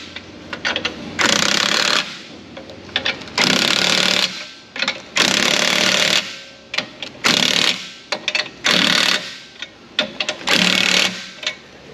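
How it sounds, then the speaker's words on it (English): A power tool tightens suspension fasteners on a 2021 Toyota Tacoma in a workshop. About six loud, rattling bursts of a second or so each are separated by short pauses. "let's get some torque in these fasteners now"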